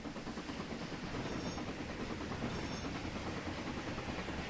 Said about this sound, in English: departing with a massive train of boxcars